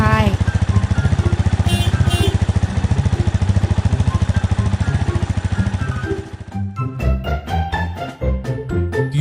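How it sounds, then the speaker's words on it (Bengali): A cartoon motorcycle, ridden by a fox on its way to a tiger's cave, revs with a steady, buzzing pulsed engine drone for about six seconds before music and other sounds take over. "এরপর শিয়াল মোটর সাইকেল চালিয়ে চলে গেল বাঘের গুহায়।"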